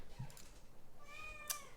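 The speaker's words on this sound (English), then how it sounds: "he's meowing like he wants to be somewhere" A house cat gives a short meow, quiet and close indoors, alone with no talk around it.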